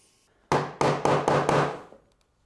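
Five sharp, evenly spaced strikes drive a carving chisel into wood while shaping a thumb latch on a candle box, each knock crisp and close with a short ring, then quiet.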